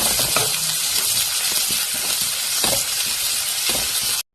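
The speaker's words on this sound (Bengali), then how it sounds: "পেঁয়াজ দিলাইছি, রসুন দিচ্ছি, আর সামান্য আদা দিচ্ছি। তো এটা আমি সামান্য বাজিয়ে নেব।" Onion, garlic and ginger fry in hot oil in a pan, a loud continuous sizzling hiss with a few brief clinks and stirring scrapes, nothing else audible.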